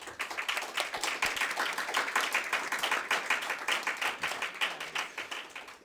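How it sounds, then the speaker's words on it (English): Conference audience at a regional Indo-Pacific panel event applauding a finished panel, steady dense clapping from many hands at moderate level with no voices over it. "please give a big round of applause for panel one"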